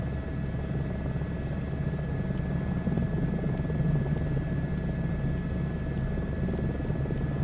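A helicopter in Microsoft Flight Simulator 2024 flies with a steady, dense rotor and engine drone, loud and unbroken, with faint tonal whine above and no talking.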